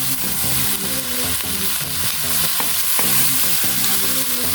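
Cauliflower and shrimp sauté in a pan with a loud, steady sizzle, overlaid by repeated rhythmic scraping as the pieces are stirred. No voices are heard.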